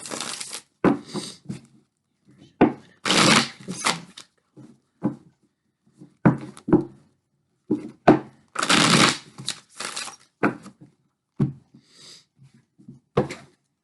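Tarot cards are shuffled in repeated bursts of riffling and slapping, close and fairly loud, separated by brief pauses and soft taps as the deck is handled.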